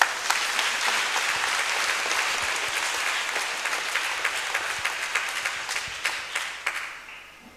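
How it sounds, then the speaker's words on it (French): A church congregation applauds Father Jean Aimé at a pilgrimage Mass, with loud, sustained clapping from a large crowd that slowly fades toward the end. "Je voudrais qu'on acclame pour mon père."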